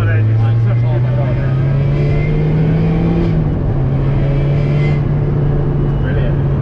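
A Lotus Exige S2 or Vauxhall VX220 Turbo sports car drives with its engine droning loudly from inside the cabin, the pitch climbing steadily then dipping as it shifts, while people talk over it.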